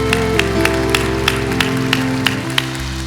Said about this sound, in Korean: 우리를 인도하시는 하나님께 영광의 박수 올려드리겠습니다